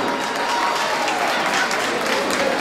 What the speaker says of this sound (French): le public t'applaudit